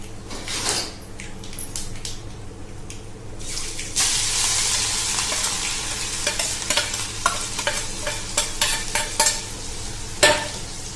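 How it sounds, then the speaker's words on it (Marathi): Cumin with garlic and green chili paste sizzles and sputters in a hot pan for bhendi bhaji, with steady frying hiss and intermittent stirring scrapes, close and fairly loud, no voices. "हे व्यवस्थित परतून घ्यायचंय।"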